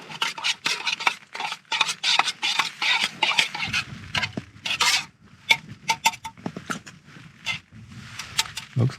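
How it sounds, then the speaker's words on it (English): A spoon clinks and scrapes in a metal camping pot, stirring in quick irregular knocks and rattles, close by, with outdoor wind and rain around. "Give it a stir."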